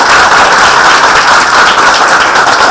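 An audience at a university talk with entrepreneur Ahn Cheol-soo gives warm, steady applause, dense and loud throughout with no voices over it.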